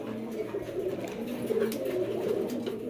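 Racer pigeons kept for sale in a loft coo continuously in a low, overlapping murmur, with light scratching and fluttering on top and no voices.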